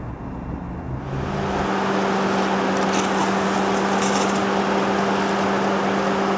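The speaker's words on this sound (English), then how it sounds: "Another cool Mulsanne detail, that would be the headlight washers." Headlight washers on a 2017 Bentley Mulsanne spray with a steady, broad hissing rush that swells after a brief quieter start and holds evenly, accompanied by a faint constant tonal hum.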